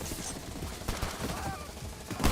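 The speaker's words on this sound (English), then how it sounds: "Rakesh Bali's minigun is relentless" A minigun rattles in a Bullet League match amid a chaotic firefight, giving bursts of rapid gunfire with sharp shots and a loud blast at the end, set against busy game noise.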